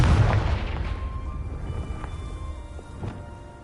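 Confringo fire spell explosions in Hogwarts Legacy, a heavy boom at the start trailing into a crackling, rumbling decay with scattered smaller pops, moderately loud and alone.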